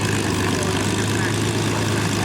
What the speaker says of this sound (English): Aircraft are still arriving.